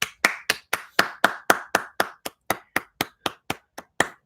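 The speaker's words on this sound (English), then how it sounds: "Clap it up for them." A single person claps steadily, about seventeen crisp, evenly spaced hand claps close by, with no talking over them.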